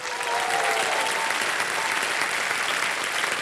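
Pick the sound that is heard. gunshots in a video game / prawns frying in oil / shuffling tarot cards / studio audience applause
studio audience applause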